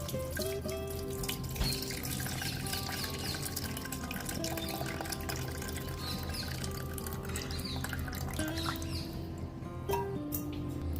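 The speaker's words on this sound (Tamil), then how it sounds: "இப்போ புளி உப்பை கரைச்சி ஒரு சட்டியில் ஊற்றிக்கணும்" Dissolved tamarind and salt water is poured into a pot for Chettinad kosumalli, a steady watery splash lasting throughout under a continuous tonal background.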